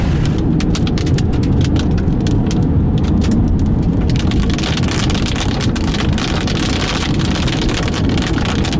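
Hail and heavy rain pound a car during a supercell storm on I-72, a dense, continuous loud clatter on the roof and glass for the whole stretch with no voices.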